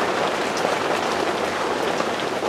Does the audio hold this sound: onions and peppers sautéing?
no